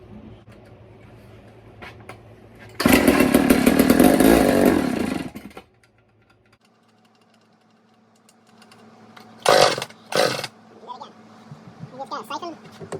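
A vintage Bow Saw chainsaw engine fires up and runs for about three seconds in a loud buzzing burst, then falls quiet, followed by a couple of short sputtering revs and faint clicks.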